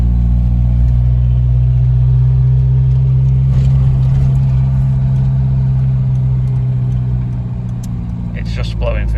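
A Triumph Spitfire sits running with the heater on and air blowing through the vents, giving a steady, close, low engine drone with an even idle throughout.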